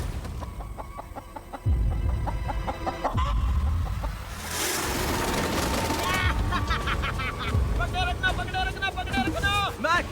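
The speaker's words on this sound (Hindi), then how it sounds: "मैंने मुर्गी पकड़ ली।" A chicken clucks in short bursts amid outdoor activity on an island, with louder rustling and handling noise and a voice speaking partway through.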